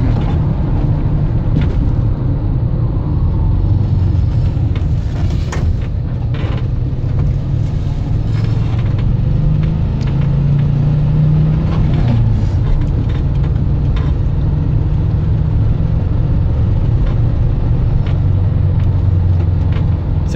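A 1983 VW Westfalia motorhome drives steadily on the road, its engine giving a continuous low rumble with road and wind noise throughout, loud and close from inside the cabin, no voices.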